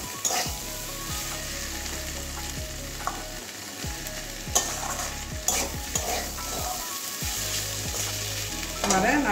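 Potato and ivy gourd (kundru) stir-frying in a pan, a continuous oily sizzle with repeated scraping strokes of a spatula and occasional clinks, close and steady with no talking.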